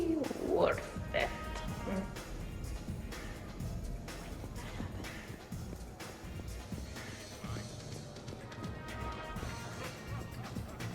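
Glass shatters in the video game Mass Effect with a sharp crash at the very start, then people talk continuously over a low game background.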